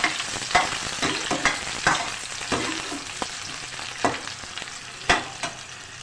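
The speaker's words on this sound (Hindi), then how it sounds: "इसी टाइम पे आप एक अदद आप इसमें प्याज डाल के फ्राई कर लें" Onions frying in hot oil in a pan for aloo palak bhujia, a continuous close sizzle punctuated by repeated scraping stirs and spatters, with no talking.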